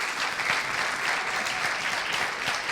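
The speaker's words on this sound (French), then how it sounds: "Est-ce qu'on peut acclamer pour le Seigneur?" A church congregation at an Easter service claps steadily in dense, continuous applause, moderately loud, with no voices standing out.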